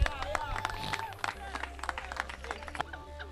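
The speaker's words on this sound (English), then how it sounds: "Give them a round of applause." Onlookers at a youth football tournament award ceremony clap for the winning team, scattered hand claps over lively chatter and crowd babble, moderately distant and uneven.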